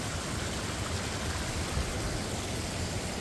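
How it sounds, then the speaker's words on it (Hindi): Waterfall dropping from high up between mountains, heard as a steady broadband roar of rushing water that stays constant and fairly distant for the whole short stretch. "मस्त काफी ऊपर से गिर रहा है वाटरफॉल।"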